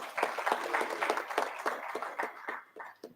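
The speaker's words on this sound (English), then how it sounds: "A big clap for Dr. Katajira." An audience claps after a speaker finishes at the NACNDC and JASH Conference 2025. The applause is a brief, fairly faint patter of many hands heard from a distance.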